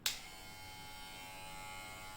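A VGR V-278 or V-085 hair clipper with a titanium cover switches on with a brief click and then runs in a steady, close electric buzz that holds an even level throughout.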